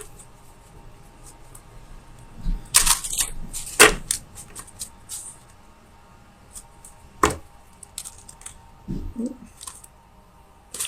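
Tarot cards shuffled by hand during a reading, giving a few short, crisp riffling and snapping bursts separated by quiet gaps, close to the listener with no talking.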